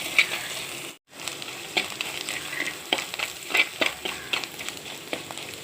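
Oil heating in a pan for a curry, a continuous close sizzle with light crackles and small stirring taps, briefly cut to silence once, moderately quiet and with no talking.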